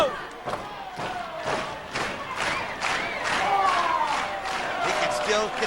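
Wrestling arena crowd at an NWA TNA match roaring and cheering, with rhythmic thumping stomps or claps pulsing through, and a commentator's voice talking over the noise.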